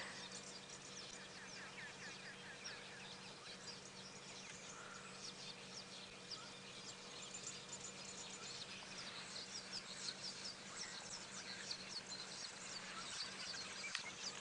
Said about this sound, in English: I want you to listen to all the birds that are chatting.